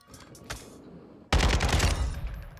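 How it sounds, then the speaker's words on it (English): An RPK machine gun fires in MW2 in a sudden, loud, sustained burst of rapid shots that runs to the end, after a quieter stretch with a single earlier crack. "Yeah, that RPK definitely got some recoil on it. Let's empty out the clip."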